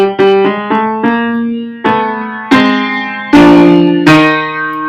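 Piano plays the bass harmony of a passage from the musical Oklahoma, a string of struck chords and low notes in a slightly uneven rhythm, each note ringing out before the next, close and clear with no voices.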